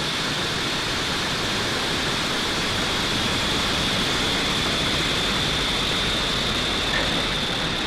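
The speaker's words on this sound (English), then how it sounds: "Ignition and liftoff for Falcon 9." A SpaceX Falcon 9 rocket at ignition and liftoff on the Intelsat G-37 mission gives a continuous, loud broadband roar like rushing noise. It holds steady and distant-sounding throughout, with no voices.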